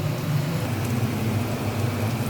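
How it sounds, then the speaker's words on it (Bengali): Soybean chunks frying red in a pan for a red chili soybean dish, a steady close hiss of sizzling oil that runs unbroken throughout with no voices. "এই সবগুলো এরকম করে আমি একটু ভেজে নিচ্ছি লাল করে"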